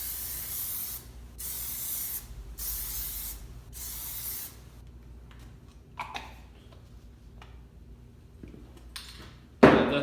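Plasti Dip sprayed onto a 2017 Ford Raptor comes in four loud aerosol hisses of about a second each, separated by short pauses, followed by quiet handling noises and a sharp clack at the end.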